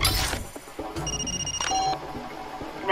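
A telephone rings in the video game Far Cry 2, one short bell-like tone burst over busy game noise, with some thuds and shuffling around it.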